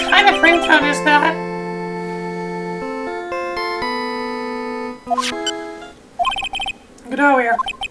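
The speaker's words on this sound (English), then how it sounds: "What kind of ringtone is that?" A phone ringtone plays as a melodic sequence of sustained electronic tones within a Phoenix Wright Ace Attorney game scene, loud and clear, followed by short game blips and chirps at the end.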